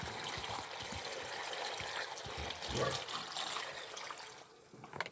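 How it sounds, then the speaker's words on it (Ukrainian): Pears are rinsed several times in well water in a bowl, making a continuous splashing and trickling wash close by, with a few clinks and sloshes rising through it. "тепер промию їх кілька разів, звичайною чистою водичкою"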